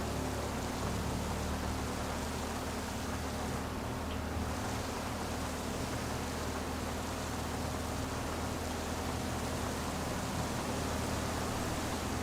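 Steady rain falls in the video game GTA V, a dense even hiss with a faint low engine hum beneath, constant and moderately quiet with no talk.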